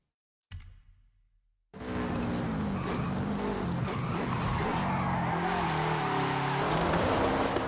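A Volkswagen Beetle in the racing game Forza Horizon 5 launches after a sharp opening burst and brief gap, its engine roaring steadily with tire squeal and rising revs, loud and close throughout.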